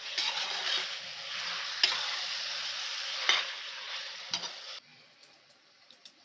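Biryani masala for prawn biryani sizzles steadily in a hot pan while being stirred, with a few sharp spatula scrapes, then the frying drops quieter near the end; no talking.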